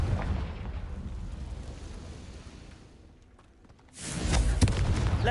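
Confringo blasting curse going off in a Harry Potter video game: a long, loud rumbling roar that fades, then a fresh heavy burst of blast noise and debris near the end.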